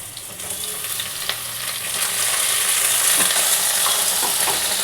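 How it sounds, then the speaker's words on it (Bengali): Ridge gourd and potatoes frying together in oil give a continuous bright sizzle, with occasional scraping taps of stirring that grow a little louder. "আলুটা কিন্তু ভাজা হয়ে গেছে। এবার কিন্তু আমি ঝিঙেগুলো দিয়ে দিচ্ছি এতে।"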